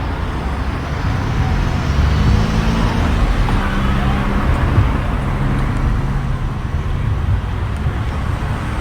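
A car on a street in Southeast DC, heard as steady, moderately loud road noise with a broad rumble that holds even throughout, without a clear approach or fade.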